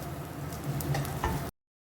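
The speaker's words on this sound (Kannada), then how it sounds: "ಅಲ್ಲಿವರೆಗೂ ಅದನ್ನು ಫ್ರೈ ಮಾಡಿಬಿಟ್ಟು ನೋಡಿ ಈ ಥರ ಬರಬೇಕು ಹಸಿಮೆಣಸಿನಕಾಯಿ ಮೇಲೆಲ್ಲ ವೈಟಾಗಿ" Green chillies roasting in a hot pan, a steady soft sizzle and crackle with occasional stirring scrapes, close and alone, cutting off abruptly.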